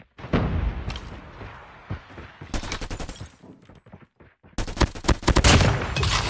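Krig-6 assault rifle fire in the Call of Duty Mobile game, sharp loud bursts of rapid shots broken by short pauses, then a dense sustained volley toward the end.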